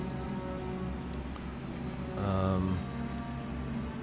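Steady rain pours in the naval combat game War on the Sea, set in the Pacific aboard a PT boat, a continuous wash with a louder tonal surge partway through.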